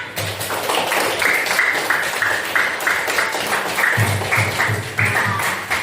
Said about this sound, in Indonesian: Kita tepuk tangan dulu nak.